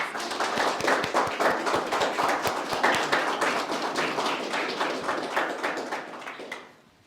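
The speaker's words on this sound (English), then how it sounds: "Let's give them a round of applause." Wedding guests at a ceremony break into applause, many hands clapping in a close, lively patter that holds steady for several seconds before fading out.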